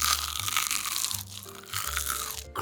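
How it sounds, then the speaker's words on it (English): Crunchy food from a viral recipe bitten and chewed up close, giving a run of loud, dry crunches with brief pauses between bites and no talking. "Listen to the crunch."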